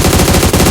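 Rapid automatic gunfire in a shooting video game, a loud, dense burst of rattling shots lasting under a second.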